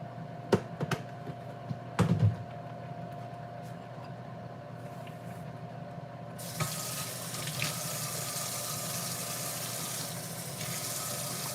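Tap water runs into a sink to be added to a pancake mix, starting with a few clinks and knocks, then a steady hissing stream that continues to the end.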